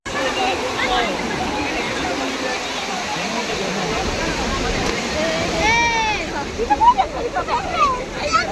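Water rushes at Bauli waterfall in a steady, moderately loud roar, and people's voices come in over it toward the end.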